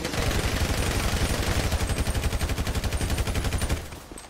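Sustained automatic gunfire in GTA RP, a steady fast stream of shots at close range that runs for nearly four seconds before stopping abruptly, with no talk over it.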